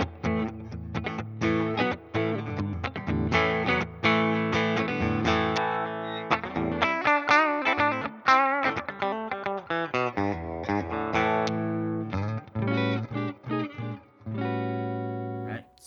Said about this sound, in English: So here's kind of switching out some clean tones.